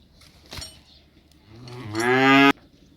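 A cow moos loudly once at a cattle sale, a rising, drawn-out bellow lasting about a second, preceded by a brief knock, with faint crowd murmur behind.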